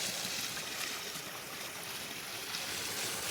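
Water rushes steadily through a gold prospecting sluice fed from buckets at a culvert, a close, continuous splashing hiss with no other sounds.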